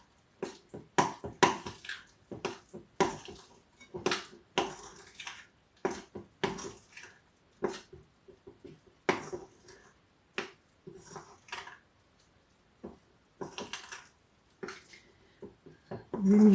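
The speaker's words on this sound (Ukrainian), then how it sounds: "розмішуємо, гарно розмішуємо і буду я вимішувати" Mini pizza dough being stirred and then kneaded in a bowl, a long run of quick knocking and squelching taps in an irregular rhythm, close and moderately quiet, with a voice speaking now and then.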